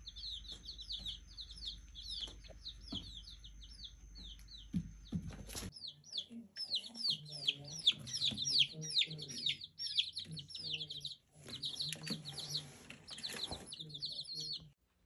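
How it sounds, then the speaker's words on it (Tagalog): Seven hens kept in a basement cluck softly beneath a busy layer of high, rapid chirps that grow denser after a sharp transition partway through, with a person talking now and then. "ngayon samahan nyo ako, magpapakain ako sa aking chicken."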